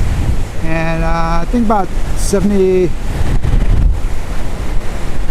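Heavy wind buffets the microphone on a mountain bike ride in Southern California, a loud rushing roar that covers the clip while someone speaks briefly over it.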